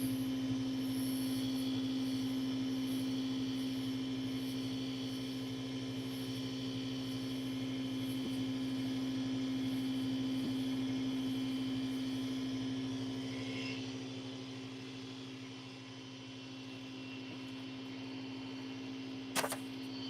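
A pen blank spins on a lathe while being sanded, making a steady, even motor drone with a soft continuous hiss and a faint dip partway through, with no voices.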